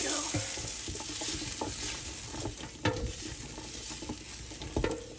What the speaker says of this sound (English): Just giving these a good mix.